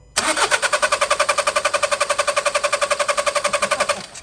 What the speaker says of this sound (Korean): 보신 바와 같이 시동이 걸리지 않고 있어